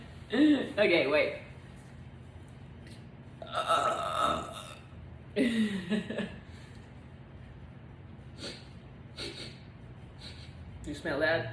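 Close, throaty burps from one person come in a few separate bursts, with quieter breathy sounds and gaps of near silence between them.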